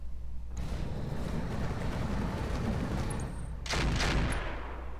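Mech weapons fire in the Roguetech game, a dense continuous barrage of rapid shots and rumbling impacts running throughout, swelling louder near the end.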